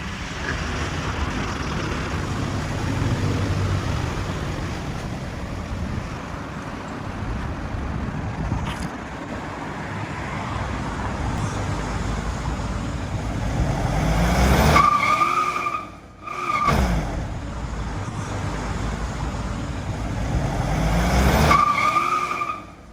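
A 2019 Mitsubishi Pajero automatic with a flashed ECU pulling away hard from a stop, the engine rising steadily and loudly through the gears with brief dips at shifts, heard close from inside the vehicle.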